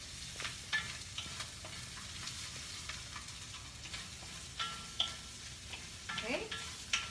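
Onion frying in a pan for paella, with a steady soft sizzle and occasional scrapes and clinks as it is stirred, low and continuous throughout.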